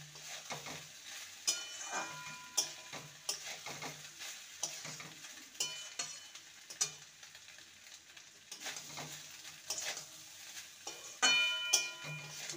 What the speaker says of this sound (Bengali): ভালো করে সমস্ত কিছু নেড়ে নেব।